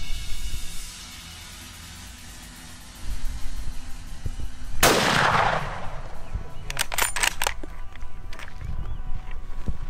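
A rifle shot during a red stag hunt in La Pampa, Argentina cracks loudly partway through, trailed by a brief echo, with a few sharper clicks and rustling after it.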